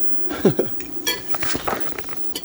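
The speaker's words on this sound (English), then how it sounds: "Scrape off all this stuffed egg." A metal utensil scrapes stuffed egg off a pan that is safe for metal tools, giving several close, sharp clinks and short scraping strokes that fade out over a few seconds.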